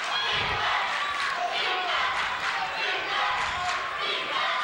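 A big home crowd at a Sayreville high school boys basketball game roars and chants steadily from the stands, a dense loud wash of voices with thumps from the court underneath.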